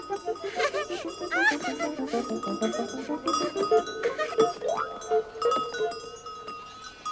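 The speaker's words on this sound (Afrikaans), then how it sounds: "Haai, die klokke." Goat bells jingle and clank in a quick, busy tinkling rhythm as a herd of goats approaches on a mountainside, with faint voices in the background.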